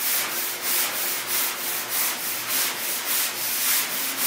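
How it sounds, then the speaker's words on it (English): Steady back-and-forth block sanding strokes on the filler-coated roof of a 1965 Ford Mustang, roughly two per second, a rhythmic abrasive rasp close by with no voices. "Alright, there's Matt, block sanding the roof."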